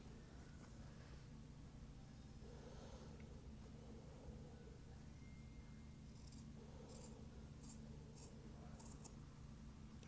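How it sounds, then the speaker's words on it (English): Scissors snip fabric seam allowance on a French seam, a few faint soft cuts followed by a quick run of light crisp snips near the end over a quiet room hum. "I'm going to trim them in half, so about 1/8 of an inch."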